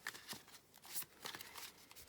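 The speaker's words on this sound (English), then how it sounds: "Okay, so we're going to get started with the shuffling." A deck of tarot cards is shuffled by hand, quiet papery riffles and slides arriving in short uneven bursts, close and soft with no talking.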